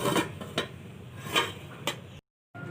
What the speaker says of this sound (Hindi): अभी मैं 10 मिनट के लिए इसको ढक के रख रही हूँ।